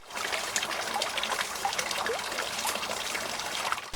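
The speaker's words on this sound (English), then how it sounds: "the water in this garden, it is a stunning feature" Water trickles steadily through a stream feature in a jungle-style garden planted with hardy exotics, a continuous broadband burble with small bright splashes scattered throughout, close and fairly loud, with no voices over it.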